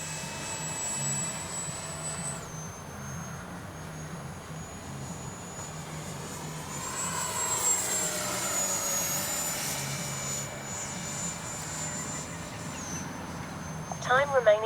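A Freewing F-22 RC jet takes off with a rising and falling ducted-fan whine that sweeps past, mid-distance and fairly loud, as a voice talks.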